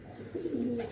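Young pigeons coo softly at close range over a steady background hiss, a single low, drawn-out call in the second half.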